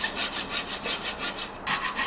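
Wood lathe cutting down an oversized square wooden bed leg, a rhythmic series of scraping, rasping strokes repeating about every quarter second, close and moderately loud with no talking.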